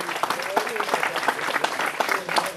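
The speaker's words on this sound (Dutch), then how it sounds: "Ik doe even nog een applaus voor deze man." An outdoor crowd applauds a cyclist at a club championship cycling event, with steady clapping from many people throughout and a voice speaking over it now and then.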